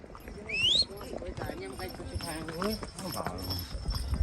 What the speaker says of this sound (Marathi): आम्ही अजून घोड्यावरून चाललो आहे